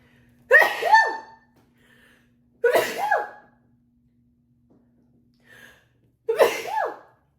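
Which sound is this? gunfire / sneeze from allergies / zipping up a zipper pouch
sneeze from allergies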